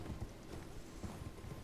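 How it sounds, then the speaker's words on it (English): A horse gallops in Elden Ring, its hooves making a steady, muffled clip-clop rhythm of soft thuds over a noisy rushing background. "We're going to want to get on our horse again."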